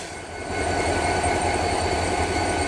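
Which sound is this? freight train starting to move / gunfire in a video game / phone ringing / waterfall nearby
freight train starting to move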